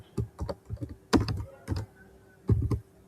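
Keys clack on a computer keyboard as a workflow name is typed, short bursts of close, crisp taps with brief pauses between words.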